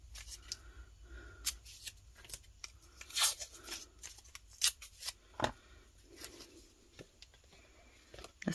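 Scissors snip through holographic vinyl for a tumbler decal, producing a series of close, crisp cutting clicks and rustles at irregular intervals over a quiet background.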